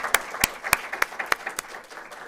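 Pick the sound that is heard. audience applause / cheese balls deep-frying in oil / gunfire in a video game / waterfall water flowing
audience applause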